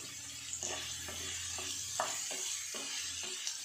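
Sliced onions sautéing with a quarter spoon of salt in a pan, a steady soft sizzle broken by repeated scraping stirs from a spoon, close and alone.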